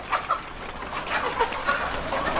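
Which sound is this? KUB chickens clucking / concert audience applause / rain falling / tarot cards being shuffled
KUB chickens clucking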